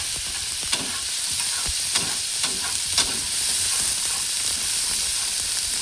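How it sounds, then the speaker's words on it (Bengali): Spice paste for an okra dish fries in a pan with a bright, constant sizzle and hiss, punctuated by several scraping stirs of a spoon against the metal. "চলুন তাহলে ভালো করে ভেজে নিয়েছি, দেখুন খুব ভালো করে একদমই ভেজে নিয়েছি।"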